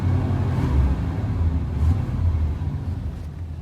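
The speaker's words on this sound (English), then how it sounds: "Give it a little gas." A 1990 Chevy Silverado with a 350 V8 engine, about 43,300 miles, revs steadily nearby, its deep low rumble holding fairly even throughout with no voices over it.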